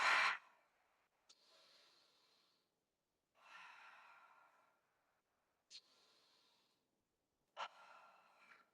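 Four slow, audible breaths come one after another during a mat pilates workout, each a soft airy exhale or inhale. The first is sharper and louder, and quiet pauses separate them.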